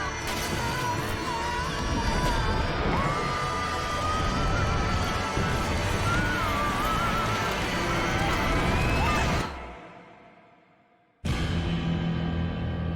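Horse-like enemies in the Judas game trailer neigh and whinny over a dense, loud soundtrack with hoof-like clatter, before a sudden drop to near silence and a return of sound.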